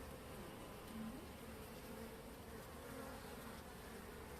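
Honeybees on a hive frame with brood and pollen foragers during winter preparation of a weak colony, a faint steady buzzing hum with occasional louder passes of individual bees, no voices.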